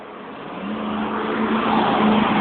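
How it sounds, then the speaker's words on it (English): A white pickup truck loaded with concrete poles accelerates hard along a residential street, its engine roar swelling steadily and loudly for a couple of seconds with no talk over it. "Here comes a white pickup truck, and he just floored it"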